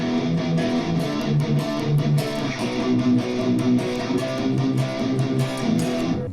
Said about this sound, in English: if I were playing a 6-string guitar, it would sound like this.